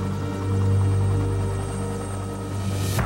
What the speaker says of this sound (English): Helicopters ferry the injured to hospital.